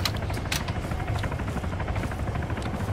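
A helicopter in a military combat simulator game, a steady close rotor drone with rhythmic blade thumping throughout, no talk.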